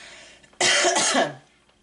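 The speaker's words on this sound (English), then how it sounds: "I have an annoying cough that I am struggling to get rid of" One harsh, loud cough bursts out close by, lasting about half a second before fading into quiet.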